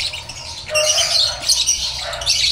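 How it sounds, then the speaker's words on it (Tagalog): A bird squawks in a series of harsh, loud calls at close range, several bursts over a quiet, low hum. "Yan o, gandang ibon o."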